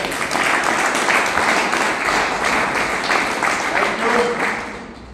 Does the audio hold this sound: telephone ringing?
no